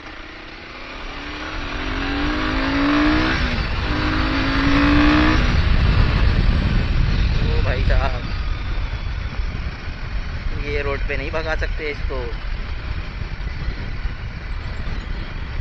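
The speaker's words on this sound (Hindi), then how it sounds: "एग्जॉस्ट साउंड भी अच्छा है यार।" Royal Enfield Himalayan 450 motorcycle (2024) exhaust revving and rising in pitch, loud and close, with people talking over the engine throughout.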